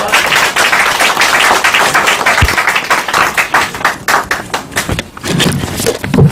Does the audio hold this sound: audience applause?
yes